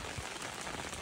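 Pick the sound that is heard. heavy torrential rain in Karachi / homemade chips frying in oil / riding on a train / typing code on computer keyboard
heavy torrential rain in Karachi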